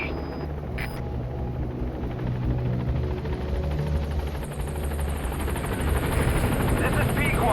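The Pequod helicopter in Metal Gear Solid V comes in to the landing zone, a loud continuous rotor thrum and whine close by that grows slightly fuller over time, with a brief radio-like voice early on.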